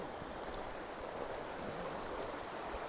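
Rushing river rapids pour past a big snow-covered rock in wintry Norway, a steady broadband wash of moving water with no pauses, fairly close and alone with no voices.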